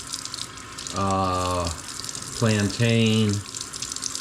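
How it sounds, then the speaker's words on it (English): Foraged wild greens such as dandelion, thistle, violet, clover and wild garlic are rinsed under cool running water, a soft steady splash with a voice speaking over it. "So we're just rinsing them in cool water."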